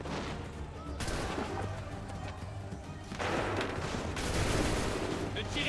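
Gunfire volley in Assassin's Creed 3, with dense bursts of distant musket-like shots rolling into a loud crackling barrage, under shouted voices.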